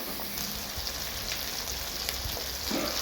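Carrots and peas frying in a pan, a soft continuous sizzle with scattered pops and a few stirring scrapes, close and fairly quiet, with no voices.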